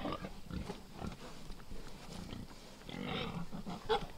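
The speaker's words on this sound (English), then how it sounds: "That's my favorite pig." A pig on a farm makes faint low grunts and snuffles in a quiet setting, with a few brief squeaky noises toward the end.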